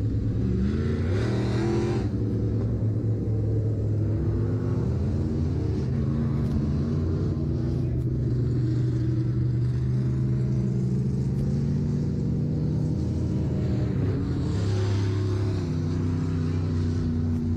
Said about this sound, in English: Now Chernosky, big push on down the backstretch